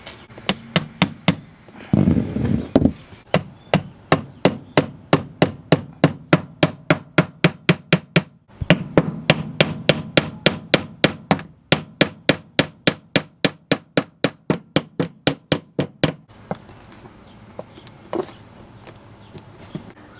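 Tiny nails are hammered into wooden trim in long runs of quick, even, sharp taps, close and loud, with short pauses between bursts.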